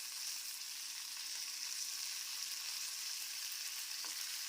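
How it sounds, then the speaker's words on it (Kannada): Byadgi and Guntur dried red chillies frying in a little oil, a continuous bright sizzle with faint stirring clicks, steady and close with no talking. "ಸ್ವಲ್ಪ ಎಣ್ಣೆಯಲ್ಲೇ ಇವನ್ನ ಫ್ರೈ ಮಾಡ್ಕೋಬೇಕು"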